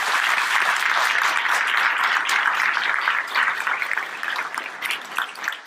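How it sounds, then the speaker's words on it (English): At a groundbreaking ceremony for St. Andrews Village, a crowd gives a loud, sustained round of applause that thins out and fades in the final seconds. "So let's give them a round of applause."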